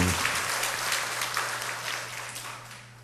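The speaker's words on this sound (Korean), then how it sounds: "박수를 드리겠습니다." A church congregation at a Sunday service breaks into brief applause, a dense burst of clapping that starts strong and gradually fades over a few seconds, with a low hum underneath.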